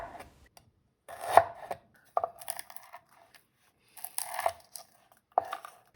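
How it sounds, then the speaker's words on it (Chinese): A knife slices ginger on a cutting board in short, close bursts: a few quick cuts, then pauses between clusters, with sharp taps against the board. "姜切片"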